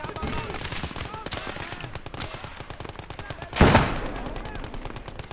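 Machine gun fire crackles in the Legion of the Damned video game, rapid bursts of sharp shots running throughout with one louder blast near the end, while a voice talks over the action.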